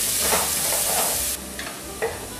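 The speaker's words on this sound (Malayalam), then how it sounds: "ഇത് രണ്ടും കൂടി ചേർത്ത് കൊടുത്ത് നല്ലപോലെ ഒന്ന് പച്ചമണം പോകുന്ന പോലെ നമുക്കൊന്ന് വഴറ്റാം" Ingredients for green pepper chicken being stirred and sautéed in a hot pan, a loud close sizzle with scraping stirs that drops off sharply partway through, leaving a few quieter clinks.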